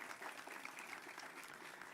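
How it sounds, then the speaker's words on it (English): Faint, distant audience applause at an outdoor Veterans Day ceremony in Moreno Valley, a brief steady wash of clapping for a high school JROTC group and a student. "Let's give them a round of applause to JROTC and Megan from Canyon Springs High School"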